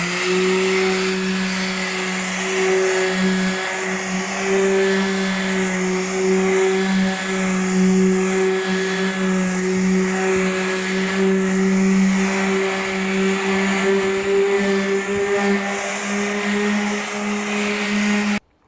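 A gouge in a Force 5 sailboat tiller is sanded with 100 grit paper on a power tool. The motor hums in a steady, loud, close drone for the whole clip, then cuts off abruptly at the end.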